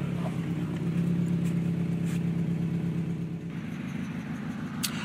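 The Dino Car's engine runs steadily at a low, even idle, a close continuous rumble with a faint shift partway through and no talk over it.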